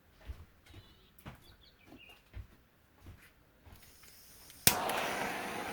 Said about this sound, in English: Let's get my torch gun.